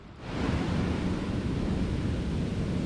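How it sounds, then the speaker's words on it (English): Steady roar of big ocean surf at New Smyrna Beach mixed with gusting wind buffeting the microphone, continuous and fairly loud, with no voices. "The surf's kind of big. It's a little bit windy"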